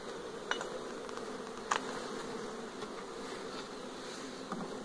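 Honeybees from a weak, sparsely populated hive hum in a soft, steady drone during a frame-by-frame inspection, with a few faint clicks and taps from the frames.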